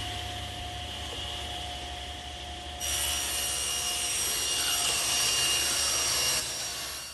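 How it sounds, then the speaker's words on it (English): A table saw rips a wood board, its steady motor whine rising into a louder, brighter cutting roar partway through before easing off at the end. "now I'm going to rip it on the table saw"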